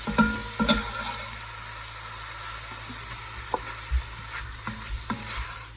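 Sausage and onion frying in a pan, a quiet steady sizzle with a few scraping stirs and light clinks scattered throughout.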